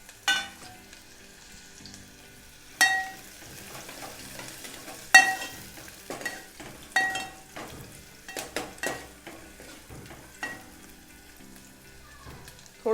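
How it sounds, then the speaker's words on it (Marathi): Finely chopped onion with garlic sautés in a pan, a soft steady sizzle broken by sharp scraping and clattering strokes of a spoon against the pan at irregular intervals, close and without talk. "आता इथे मी छोटा लहान कांदा चिरून घेतलेला आहे बारीक, तो आपण टाकणार आहोत। व्यवस्थित आपण परतून घेऊया।"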